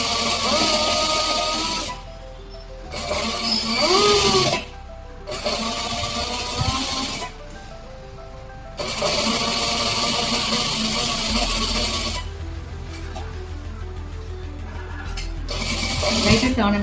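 Sewing machine stitching around a chudi bottom hem: several bursts of rapid mechanical whirring, each a second or two long, separated by short pauses as the cloth is turned.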